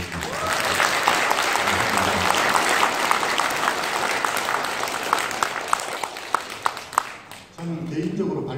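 Audience applause at a 2019 national forum for people with mental disabilities and their families, hosted by the health and welfare ministry: a loud, sustained roar of clapping with sharper individual claps toward the end before it cuts off.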